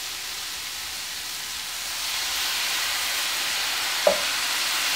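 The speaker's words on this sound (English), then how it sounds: "And it should sizzle," Red wine poured onto browned vegetables in a hot cast iron pan sizzles with a steady, loud hiss that swells slightly, marked by one brief clink near the end; no talking.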